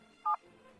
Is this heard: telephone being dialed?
yes